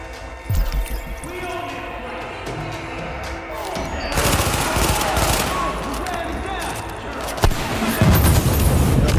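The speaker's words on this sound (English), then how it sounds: "The machine gun is right there." Machine gun fire in The Division near the Lincoln Tunnel base of operations: rapid, loud bursts of automatic shots with crashing impacts, growing denser and heavier through the second half.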